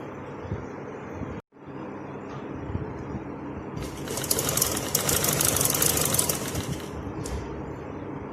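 A domestic sewing machine runs steadily while stitching a kurti along the buckram edge, with a continuous mechanical whir and hum, a short pause early on, then a brighter, louder stretch of rapid stitching before it settles again.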